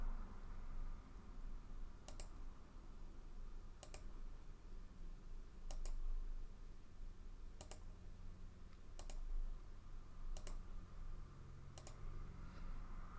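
A computer mouse clicks at steady intervals of about two seconds, each click sharp and quiet, with nothing else but a low room hum.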